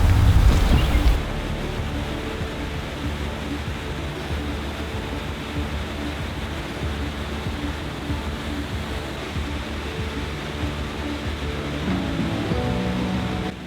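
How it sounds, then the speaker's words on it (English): Tahquamenon Falls, a waterfall on a trail along the ridge, sends up a steady broadband roar that holds unbroken and fairly loud throughout, with no voices over it. "you can go up close and personal to the falls"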